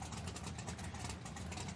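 A Camaro drag racing car's engine rumbles as a continuous loud, rough roar with a dense churning texture at an outlaw nitro drag strip during qualifying, heard steadily without any voices.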